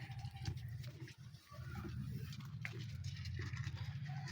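A goat is hand-milked in cold winter weather, giving a steady rhythmic run of squirting milk strokes close by, with faint animal and farmyard sounds in the background.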